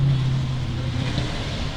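A Drift Academy purpose-built R34 drift car pulling out onto the circuit at Meremere Drift Park during qualifying, a steady low engine drone heard at a distance with no distinct revving.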